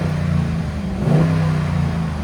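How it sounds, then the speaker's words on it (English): A Jeep Grand Cherokee SRT with a 6.4-liter HEMI V8 revs briefly, its deep exhaust note swelling from a steady rumble to a slightly higher pitch, then settling, close and loud with no talking. "Give it gas. So when you get on it, it opens up"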